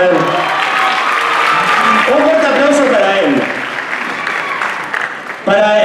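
An audience applauds loudly at a choreography dance show. The dense clapping holds steady, eases slightly near the end, then is cut by a sharp sound, with voices talking over it.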